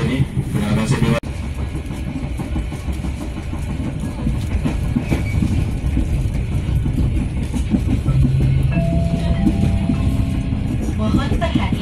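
An Indonesian passenger train on the Pasar Senen to Cicalengka line rumbles steadily along the rails with rhythmic clickety-clack, heard from inside the carriage, with occasional tones and faint voices.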